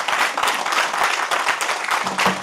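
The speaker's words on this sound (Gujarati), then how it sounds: "બંને વક્તાઓનું ખૂબ તાળીથી અભિવાદન કરીએ" Audience applause for two speakers at a saint-literature gathering, a dense steady wash of many hands clapping throughout, fairly loud and close, with no talk over it.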